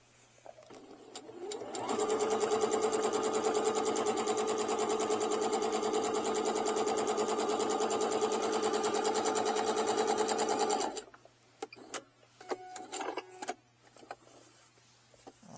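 A Pfaff Passport 3.0 sewing machine runs a steady, fast whirring stitch along a wallet seam for about nine seconds, close and even, then stops, followed by light handling clicks and rustles.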